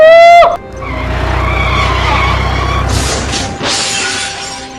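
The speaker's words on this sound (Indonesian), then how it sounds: "Tolong, ada kecelakaan parah di sini" Dramatized car crash effect: a loud, sharp tire skid gives way to a heavy impact with a low engine rumble underneath, then bright bursts of shattering glass spill out over the final seconds, close and alone with no voices.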